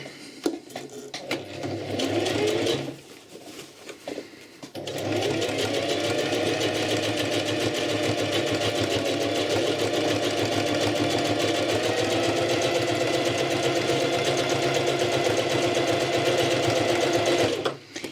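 A sewing machine stitches through denim jeans while a torn crotch is repaired. It makes a short burst, pauses, then runs in a steady, close, continuous whir for over twelve seconds with no talk.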